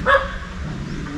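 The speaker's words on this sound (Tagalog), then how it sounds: "Oh, ingay din ng aso." A single short dog bark rings out at a moderate distance, followed by quiet outdoor background.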